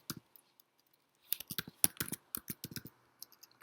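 Quick, irregular clicks of keys being typed on a computer keyboard, close and fairly quiet, in short bursts separated by brief pauses.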